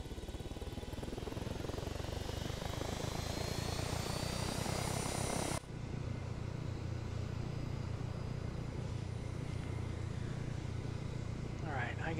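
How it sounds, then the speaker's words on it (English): A large rotor aircraft in the ARMA 3 video game, a V-44 Blackfish tiltrotor, gives a loud, steady engine and rotor roar throughout, with a sudden drop in its high whine partway through; someone talks over it. "Whoa, that's a huge ass chopper."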